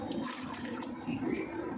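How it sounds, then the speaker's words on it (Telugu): Fresh water runs into a lily plant tub on a terrace garden, making a continuous low, muffled gushing that stays fairly faint and steady throughout, with no speech. "మళ్ళీ కొత్త నీరు పట్టుకోవాలి."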